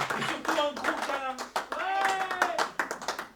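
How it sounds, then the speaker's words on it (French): An audience at a French poetry slam claps for a poet, bursts of applause breaking through a voice that talks over it almost the whole time. "Applaudissez la poétesse."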